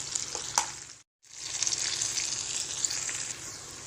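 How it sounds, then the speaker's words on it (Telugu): Green chillies, sesame seeds and garlic frying in oil in a pan, a continuous crackling sizzle with a few sharp pops, broken by a brief silent gap before resuming, with no speech. "ఇలా వేసుకున్న వాటన్నిటిని ఒక 1 మినిట్ వేయించుకుంటే సరిపోతుందండి"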